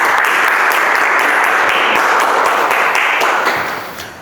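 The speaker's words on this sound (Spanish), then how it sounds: "Un aplauso para él." A lecture audience at a cosmology class breaks into loud, sustained applause, dense clapping that holds steady for about three and a half seconds before fading near the end.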